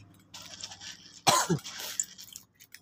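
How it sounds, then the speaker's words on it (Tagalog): A single harsh cough bursts out over a quiet hiss of background noise, followed by a softer rasp, close to the listener. "Inuubo ulit ako kasi nga malamig na naman dito sa amin."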